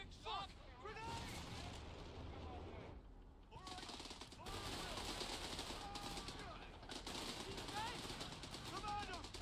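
Gunfire and explosions fill a war video game battle, dense machine-gun bursts and shots rattling continuously at moderate level, with game voices calling out over the fighting.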